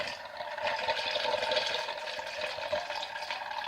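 Water swirling into a vortex in a DIY magnetic stirrer, a continuous rushing, churning wash that stays steady and moderately loud with no talk over it.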